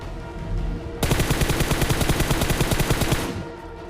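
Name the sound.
MK14 DMR gunfire in video game PUBG Mobile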